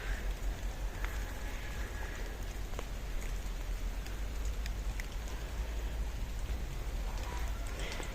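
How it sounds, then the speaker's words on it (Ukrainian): Steady rain falls in a garden, a dense, even patter of drops with occasional louder nearby hits, continuous throughout. "Дощ."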